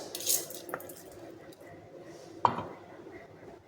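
Crushed paste is scooped out of a mixer jar into a vessel, heard as a few soft, wet scrapes and spoon clinks against metal, with a sharper knock near the middle, fairly faint and close.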